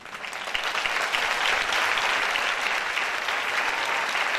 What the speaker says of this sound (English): I think we should give her a round of applause